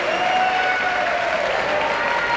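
A boisterous crowd at a Little League basketball final applauds and cheers in a loud, continuous wash of clapping and voices that fills the hall.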